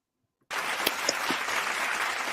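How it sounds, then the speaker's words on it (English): A canned applause sound effect from an applause button cuts in abruptly after a moment of silence and continues as a steady, dense crowd clapping and cheering. "I'm so happy about this applause button, y'all."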